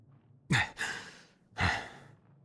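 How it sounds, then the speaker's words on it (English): Heavy, breathy panting from a video game character in an undersea adventure, two loud drawn-out gasping breaths close up, separated by a short pause, with no talking. "are you panting so much"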